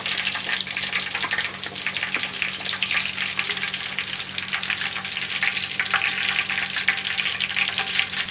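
Pieces deep-fry in hot oil with a constant close crackling sizzle, bright and even throughout, with no voices over it.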